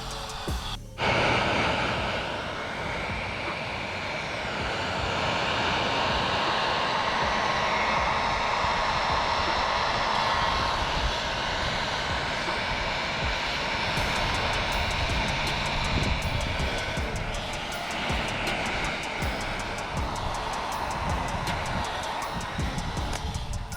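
A heat gun blows steadily close by, a loud continuous airy roar that runs almost the whole time while it shrinks material around the teeth of a DIY corpsed skeleton.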